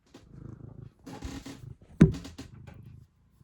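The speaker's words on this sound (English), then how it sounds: "say hello to my cat" A house cat purrs up close in soft rumbling bursts separated by brief pauses, with one louder rustle or bump partway through.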